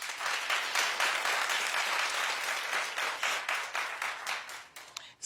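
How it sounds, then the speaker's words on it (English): A studio audience at a daytime talk show applauds, a dense, sustained burst of many hands clapping at moderate distance that thins out and tapers toward the end. "Clap if you remember us."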